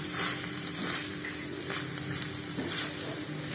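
Ground masala for a carrot and chickpea masala sizzles as it is stirred into a hot pan: a quiet, continuous frying hiss broken by a few brief scraping stirs.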